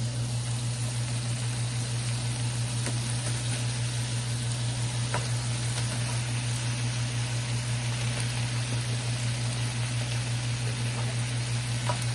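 Chopped vegetables sizzle in a stir-fry pan for chow mein noodles, a steady, even hiss with a low constant hum beneath it and no pauses.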